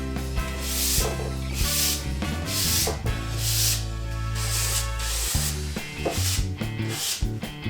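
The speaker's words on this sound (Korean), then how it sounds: "사용했던 사포를 이용해 표면을 가볍게 정리해 줍니다" Rhythmic scratchy strokes of sandpaper lightly smoothing a wooden monitor stand, repeating about a dozen times at an even pace over background music.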